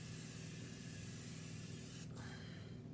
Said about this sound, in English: Let me spray a little more.